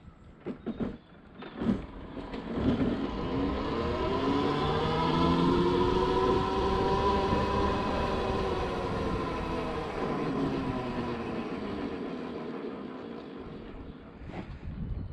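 A Masai Vision 3000 with a chain transmission is ridden, producing a steady whining drone that rises and falls in pitch, mixed with wind noise against the microphone.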